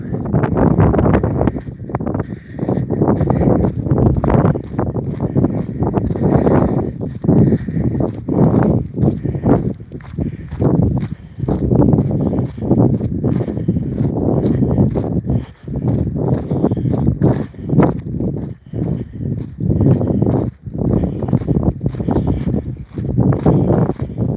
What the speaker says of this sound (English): And it's windy again